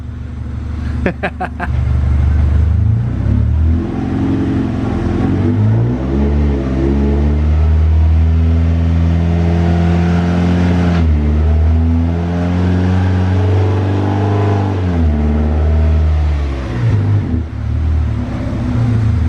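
A Honda CR-V engine revving on a dyno, loud and close, climbing and dropping through repeated rises in pitch as it shifts gears, running continuously for the whole stretch.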